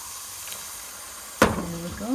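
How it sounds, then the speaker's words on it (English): Boiled kettle water poured into melting butter and sugar for Zarda Pilau candied rice, bursting into a sudden loud sizzle and hiss that then settles into a steady bubbling foam, heard up close with no talking. "what I'm going to do is add in a little drop of water."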